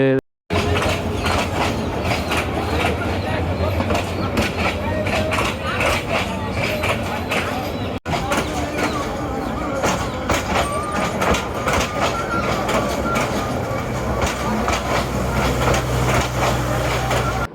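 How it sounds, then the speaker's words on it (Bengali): A commuter train bound for Dhaka at Kawraid railway station in the afternoon, its steady rumble and wheel clatter running close and loud throughout, with voices mixed in. "কমিউটার ট্রেন এসেছে ঢাকায় যাবে"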